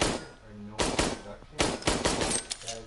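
Firearms in a video game go off in quick bursts, with a few sharp volleys of shots separated by short pauses. The gunfire is loud and close.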